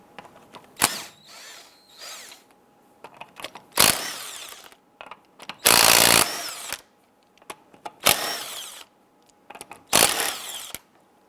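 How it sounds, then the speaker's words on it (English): Impact gun with a 19mm socket loosening and removing wheel lug nuts on a 1995-2001 Ford Explorer, five loud close bursts of rattling whir separated by quiet pauses and faint clinks. "Using our 19mm socket, we're going to loosen and remove the lug nuts."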